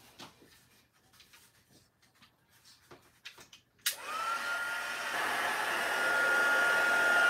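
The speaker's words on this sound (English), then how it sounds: "I'm going to take my heat tool." A handheld heat tool heating metal leaf switches on abruptly after a few quiet handling rustles, then blows a loud, steady whooshing drone close by until the end.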